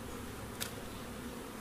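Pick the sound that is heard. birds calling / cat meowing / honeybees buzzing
honeybees buzzing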